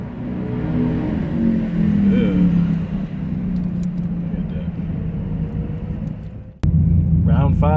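A 2014 Nissan GT-R and a 2018 Whipple-supercharged Ford F-150, both on E85, race with loud, steady engine rumble and rising revs that hold for several seconds, then a sharp break into another burst of engine noise, with people talking over it.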